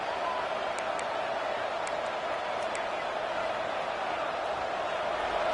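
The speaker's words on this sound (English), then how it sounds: "this crowd is fired up. Listen to this noise here." A large college football stadium crowd roars in a steady, continuous wall of noise, with a few sharp high whistles cutting through now and then.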